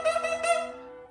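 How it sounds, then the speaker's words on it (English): A bassoon double reed blown on its own produces a single short, buzzy, nasal squawk with rich overtones, close and moderately loud, fading out after about a second. "When I play just the reed, it sounds like this."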